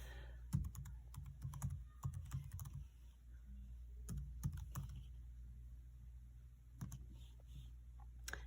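Keys clatter on a computer keyboard as an email address is entered at a login page, several quick bursts of close tapping separated by short pauses, fairly quiet over a low steady hum.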